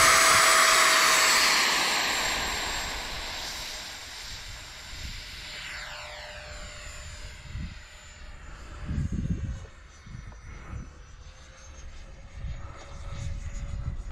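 An FMS Drake III 64mm electric ducted fan RC jet on its maiden flight in gusty wind. A loud, close whine opens and falls away, then a steadier, fainter whine continues with wind buffeting.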